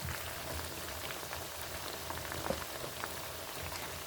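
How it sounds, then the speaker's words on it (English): Teriyaki-marinated pork pieces sizzle steadily in hot oil, a dense, even crackle and spatter with scattered louder pops, close and continuous with no talking. "All right, so the frying part gonna take a minute. So we're gonna let it fry"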